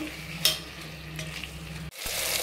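Three tomatoes cut lengthwise sautéing in hot oil in a pan for squid biryani, giving a steady close sizzle and frying crackle with a brief stir or clink, continuing alone without talk.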